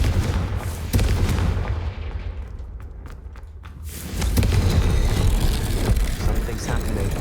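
The Confringo fire spell from Hogwarts Legacy bursts with heavy booming explosions and rumbling impacts, loud and dense throughout the gameplay sound.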